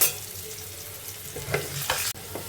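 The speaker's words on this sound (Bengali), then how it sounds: "আলুটা ভেজে নিয়েছি, তুলে নেব।" Potatoes frying in oil for a Bengali-style mutton curry, a close, steady sizzle with a few scraping stirs and taps of a spatula against the pan.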